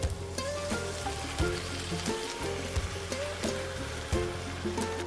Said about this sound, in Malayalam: ഇനി ഇതിലേക്ക് നമ്മൾ വേവിച്ച് മാറ്റി വെച്ച പോർക്ക് ചേർത്ത് കൊടുക്കാം.